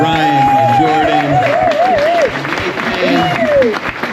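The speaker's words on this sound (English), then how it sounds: "huge round of applause for Ryan and Jordan" Concert audience applauding during a show on a tour in Amsterdam, a loud steady wash of clapping and crowd noise with music tones and talk over it.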